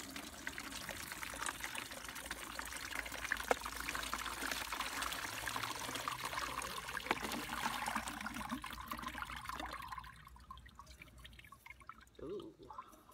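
Dye liquid made from black walnut and hickory hulls is poured and strained, giving a steady trickling, splashing stream for about ten seconds before thinning to faint drips, fairly quiet throughout.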